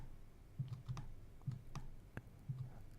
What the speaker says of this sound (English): Press my mouse twice.